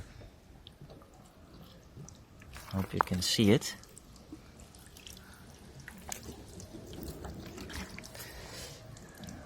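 Water from a bottle splashes and patters onto the waxed paint of a white car for a second or two, close by, then trickles faintly while someone speaks.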